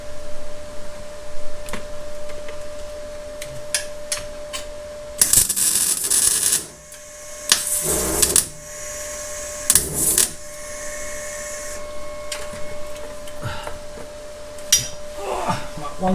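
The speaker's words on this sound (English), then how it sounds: "let's tack weld that in" Short bursts of tack welding on an exhaust part for a Toyota Starlet Glanza, several separate crackling zaps with quiet gaps and a steady background hum.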